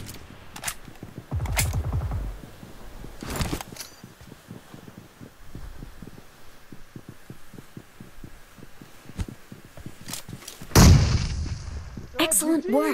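Booming video-game grenade explosions and gunshots burst out in several loud, broadband blasts, the biggest near the end, with quieter rumbling battle noise filling the gaps between them.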